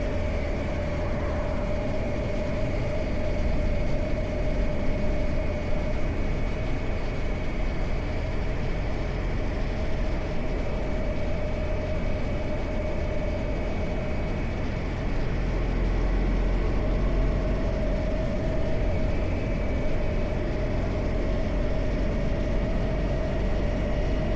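A Royal Enfield motorcycle ridden along curved country roads, its steady engine drone and wind rush continuous and loud throughout, with no talk.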